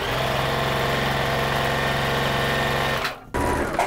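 A sewing machine stitches fabric for a simple children's dress, a loud, steady close motor whir that stops abruptly near the end and restarts briefly for a backstitch.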